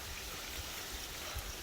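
Water trickling in a small stream in Death Valley, a steady soft broadband wash that is faint and continuous, with a few low thumps of handling noise.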